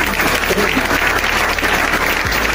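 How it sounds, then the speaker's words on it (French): A church congregation applauds together after a testimony of thanks, a dense, loud and steady wash of clapping that fills the short moment without any talk. "Est-ce qu'on peut applaudir?"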